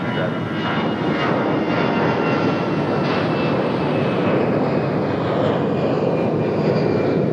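Jet engines of an empty Airbus A319 airliner roar steadily at an airport, a loud, continuous broadband rumble and whine with no break.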